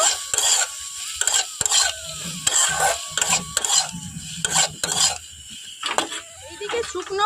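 Spices, salt and turmeric stirred together in a pan for neem leaves and brinjal, repeated scraping strokes with a faint sizzle, under a person's voice.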